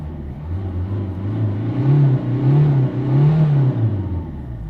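Citroën C3 1.4 HDI diesel engine with a fuel pressure sensor fault, revved several times in smooth rising-and-falling swells, close and steady with no voices.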